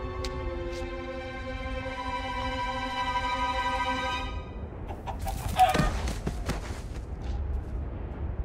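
Chickens cluck and squawk in the video game Minecraft Story Mode, a few clucks heard over a sustained musical chord that fades into a busy, crackling game background.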